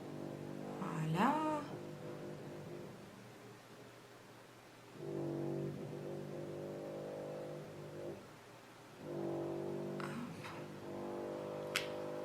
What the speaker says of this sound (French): le bruit de fond que vous devez entendre, c'est les travaux